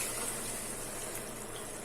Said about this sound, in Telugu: నేను దీంట్లోకి 1 లీటర్ వాటర్ అయితే తీసుకుంటున్నాను